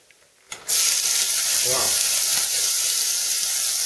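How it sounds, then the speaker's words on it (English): Onion sautés in a pan, a sudden loud sizzle bursting in as it hits hot oil, then holding a steady, close frying hiss while it is stirred. "I'm just going to saute it just a little bit"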